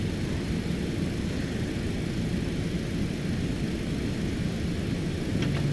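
Light aircraft in flight, a steady broadband engine and wind drone heard from inside the cabin, loud and unbroken throughout.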